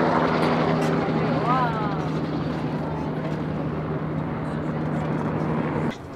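Steady rotor drone of a helicopter flying over Mexico City fills the background throughout, heard from the Torre Latinoamericana, with people talking over it.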